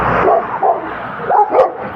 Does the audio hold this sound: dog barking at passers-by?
yes